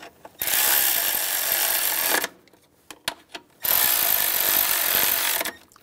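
A power tool snugs down bolts on the oil filter cooler housing of a 2011-2018 Ram 1500 3.6L V6, two loud sustained whirring runs close by, with a few short clicks and taps between them.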